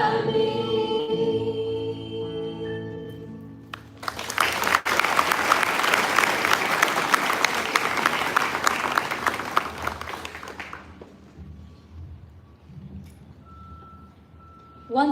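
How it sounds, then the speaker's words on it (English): Audience applause after a student performance of "Stand by Me" at a sixth-form leadership summit, following the last sung notes; clapping bursts in loudly and runs about six seconds before fading to quiet with a faint tone. "can we have a warm round of applause for this wonderful performance?"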